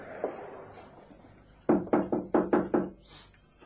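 Six firm knocks on a wooden door in a police radio drama, a quick evenly spaced series of raps that ring out clearly after a quiet room-tone lead-in.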